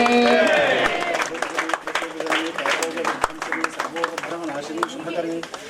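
Crowd clapping at a Bangaru Maisamma Navaratri temple festival closing ceremony, steady scattered applause that continues under a voice and loud festive background noise.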